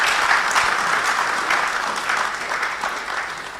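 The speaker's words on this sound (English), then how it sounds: "I this time want to ask all of you to applaud for yourselves" Audience applause fills an auditorium at the Ghana Internet Conference, a dense, steady clapping from a large crowd that holds loud throughout with slight swells.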